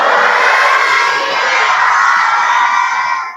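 Children at a Sikh Nitnem camp roaring the jaikara in unison, one loud, sustained massed shout that fills the space and trails off at the end.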